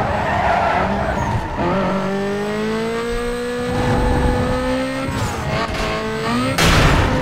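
Tires squeal and skid loudly as a Mazda RX-8 slides through tight corners in Need for Speed: Most Wanted, the engine whining and shifting pitch underneath in long sustained screeches.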